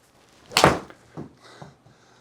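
A Mizuno JPX 923 Hot Metal iron strikes a golf ball thin on the course: a single sharp, fairly close metallic click-thud, followed by a few faint knocks and quiet outdoor ambience.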